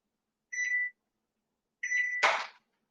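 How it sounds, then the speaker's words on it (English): Oven control panel beeping as the oven is switched on: a short electronic tone, a pause, then a second longer tone broken by a clack, close and clear with no talking. "I'm going to turn on the oven real quick"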